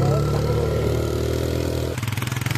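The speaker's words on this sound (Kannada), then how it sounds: "ಫುಲ್ ಆಫ್ ರೋಡಿಂಗ್ ಅಲ್ಲಿ ಹೋಗ್ತಾ ಇದೆ ಗಾಡಿ." A two-wheeler's engine drones steadily as it rides a rough off-road track among hills toward the Siddeshwar temple, close and fairly loud, then shifts to a quicker pulsing chug near the end.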